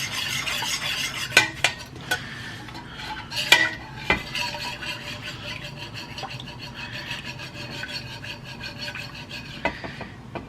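A spoon stirs powdered pectin into a corn cob jelly mixture in a pot, making repeated soft scraping and rubbing strokes with a few sharper clinks against the pan. The sounds are close and fairly quiet, with no talk.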